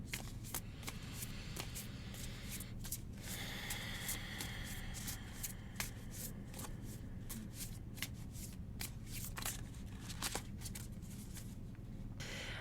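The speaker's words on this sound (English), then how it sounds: "So let's take a moment, shuffle these cards, and just see what comes up right now." A deck of cards is shuffled close up, with repeated rapid riffling bursts and soft flicks and taps between them over about twelve seconds, no talking.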